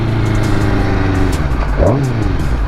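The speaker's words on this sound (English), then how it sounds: "I don't use my horn. I just rev it." A car engine revved in place of sounding the horn, a continuous loud mid-range drone with a sharp rising-then-falling rev swell near the end.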